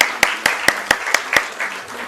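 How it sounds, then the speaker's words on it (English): A crowd applauds at an IPO listing ceremony at the NSE, sharp individual claps standing out in a steady, evenly spaced rhythm over a softer wash of clapping. "Let's give a huge round of applause for sir"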